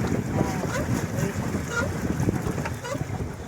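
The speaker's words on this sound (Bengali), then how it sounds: "হ্যাঁ বোট হ্যাঁ, চড়ছি আমরা এখন বোট।" Boat ride at sea off Digha beach, a continuous roar of engine, wind and water with buffeting wind noise on the microphone and a few voices mixed in.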